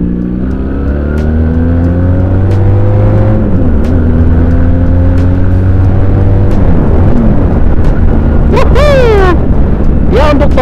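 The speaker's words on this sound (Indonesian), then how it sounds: "Oke, kita akan coba tarikannya ya dari gigi 2." Benelli Patagonian Eagle 250 motorcycle pulling hard from second gear, its engine note climbing loud and close through rising revs, a gear change, then a brief backing off with popping exhaust crackles near the end.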